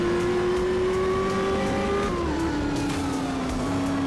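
A rally car engine in the video game Art of Rally holds a steady, loud, near drone, with the pitch shifting as gears change, plus faint tire noise and no talking.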